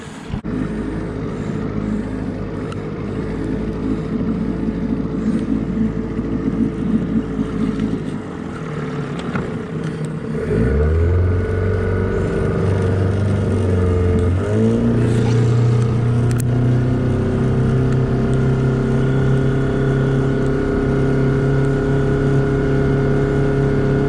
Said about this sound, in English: Got the boat in. Got the engine fired up.